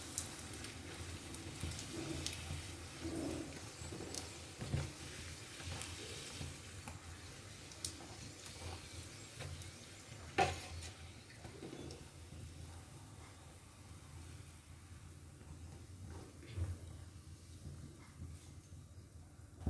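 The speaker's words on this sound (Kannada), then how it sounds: "ನಾವು ಮಾಡಿರೋ ರವಾ ಪೂರಿನ ಒಂದೊಂದಿನ ಫ್ರೈ ಮಾಡಿ" Rava puris frying one at a time in hot oil, a soft, steady sizzle and bubbling hiss running throughout with a few small pops and clinks, fairly quiet and close with no talk.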